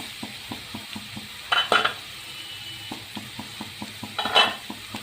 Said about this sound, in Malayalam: നമുക്കിതിലേക്ക് ക്യാരറ്റ് ഇട്ട് കൊടുക്കാം